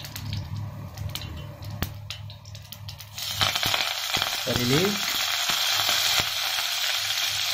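Mustard seeds hit hot oil in a pan and begin sizzling and popping, a dense crackling hiss that swells suddenly and then stays steady, with faint clinks of cookware.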